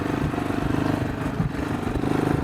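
A Geon X-Road light 250 motorcycle rides over rough off-road ground, its mid-pitched engine droning steadily with rhythmic pulsing and faint clatter throughout, no speech.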